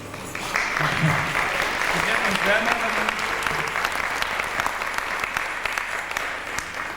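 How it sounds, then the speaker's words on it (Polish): Steady audience clapping fills a hall at a 1995 welcome ceremony, continuous and fairly loud for several seconds, with a host's voice faintly mixed in. "Proszę o oklaski, będzie nam cieplej w ten sposób."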